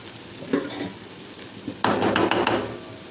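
Dried fish is pounded finely for thecha, a spicy crushed relish, with a few scattered knocks followed by a denser run of sharp, clattering blows toward the end, close and alone.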